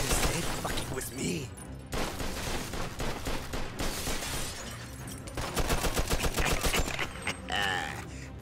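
Rapid bursts of grease gun fire in the Mafia 2 Definitive Edition video game ring out in dense, loud volleys with crashing impacts, mixed with game sound and a voice talking over them.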